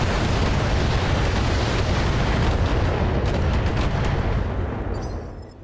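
Missiles exploding in a video game make one continuous, loud, rumbling blast that fills the whole stretch and then fades away near the end, with no voices.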